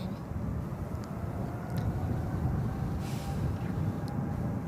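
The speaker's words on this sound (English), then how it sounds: "Starting to hear those takeoff sounds just a little bit" An Air Premia airliner takes off from SFO runway 28 Left, heard as a distant, steady low engine roar that stays constant throughout, with no speech.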